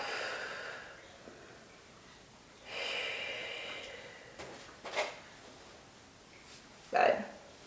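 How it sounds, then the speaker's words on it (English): Soft breaths in and out from a person in child's pose during a beginner mat Pilates session, a long airy inhale followed by a slower exhale, with a few brief sniffs and a sharp snort-like puff near the end. "Inhale, exhale."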